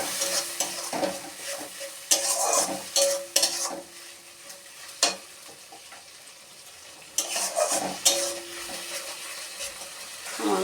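Garlic-ginger paste and onion fry in oil for a mutton curry, with repeated bursts of spoon stirring and scraping against the pot over a softer continuous sizzle, pausing briefly between stirs.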